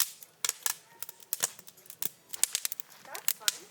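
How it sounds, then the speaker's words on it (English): Campfire burning at a campsite, with sharp, irregular pops and snaps crackling up close in quick clusters over a low background. "enjoy some fire"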